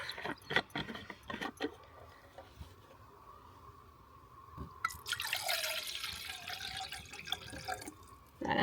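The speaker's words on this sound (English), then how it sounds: "so let's stick some water in here" Water pours into the metal pot of an OEX Heiro solo stove from about five seconds on, a steady close splashing and trickling stream after a few scattered drips and taps.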